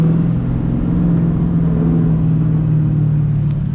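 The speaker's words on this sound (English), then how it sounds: "my car is growling" Engine of a manual stick-shift car held at high RPM, a steady loud growl with a strong low hum, continuous and unbroken from start to finish.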